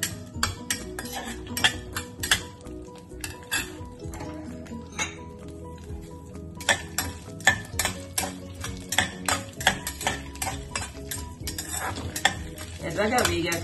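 Urad dal, chana dal, mustard seeds and cumin fry in hot oil for a tempering, a soft steady sizzle broken by repeated clinks and scrapes of a stirring spoon against the pan.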